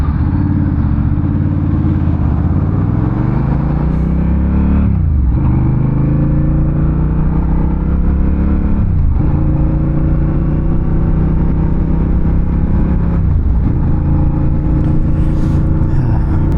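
A 2025 Honda Rebel 1100 motorcycle engine drones steadily while riding, with low rumbling harmonics that dip and rise at a few gear shifts, close and loud throughout with no talking.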